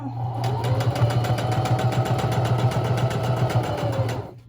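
A sewing machine stitches a homemade fabric face mask, giving a fast, steady mechanical whirr with a regular clatter, close and continuous until it stops near the end.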